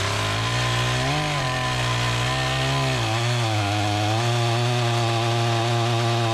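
A chainsaw makes the felling cut in a huge ash tree, its engine loud and close, dipping briefly as it bites into the trunk and then holding a steady, throaty drone.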